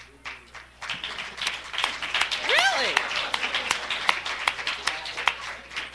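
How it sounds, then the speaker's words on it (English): Attendees at an NCBI 30-year celebration applaud people standing to be welcomed. Scattered claps build into fuller applause, mixed with close talking and a brief vocal whoop. "we'll applaud them anyway, because that's what we do"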